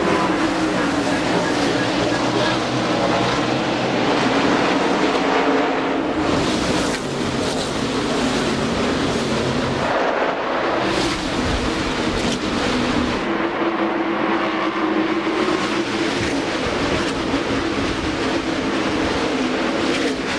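NASCAR stock cars roar around Darlington Raceway in the 2001 Carolina Dodge Dealers 400 just after the green flag, a dense continuous engine drone with shifting pitch that fills the whole stretch, loud and sustained.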